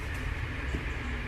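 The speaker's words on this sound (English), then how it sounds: "I don't know if you can hear that, that's a train." A train passes at a distance, a low steady rumble with faint rail noise running continuously beneath the scene.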